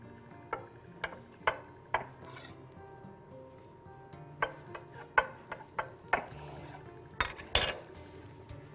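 Dough being cut into pieces on a kitchen work surface, with a series of sharp knife taps and clinks against the board, some spaced out and others in quicker clusters, close and clear with no talking.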